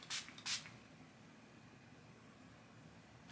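Two quick hissing spritzes of an aerosol makeup setting spray, close by, followed by quiet room tone with a faint third puff at the end.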